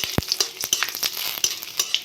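Dried red chillies and a bay leaf fry in hot mustard oil with a soft, continuous sizzle, broken by several sharp spatula scrapes and taps against the pan.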